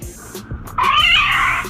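A cat gives one loud, drawn-out meow in the second half, sharp and close, after a few soft background knocks, within a story about a mischievous cat seizing baby myna birds.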